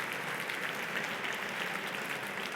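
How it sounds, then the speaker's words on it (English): An audience applauds a discussion panel at the close of a session, steady dense clapping from many hands throughout, moderately loud and unbroken with no voices on top. "Please join me in giving this panel a massive round of applause."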